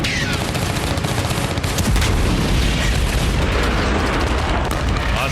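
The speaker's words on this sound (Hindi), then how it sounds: "आसमान में बम बरसने लगे" Heavy bombardment in an air strike on a hospital compound, bombs exploding amid continuous loud rumbling booms and crackling gunfire, dense and unbroken throughout.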